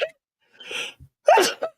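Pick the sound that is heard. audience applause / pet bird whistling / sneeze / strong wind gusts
sneeze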